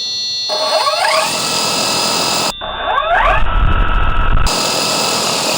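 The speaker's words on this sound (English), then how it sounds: "World's first 3D printed drone, takeoff" Small 3D-printed drone's electric motors spool up at takeoff on a 24.6-volt battery, a steady high-pitched whine with rising tones that briefly dips, then returns louder with deeper rumbling wash.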